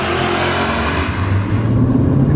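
BMW M5 engine revving hard under acceleration, close and loud, a rising mechanical roar and whir climbing in pitch across the short burst with no speech.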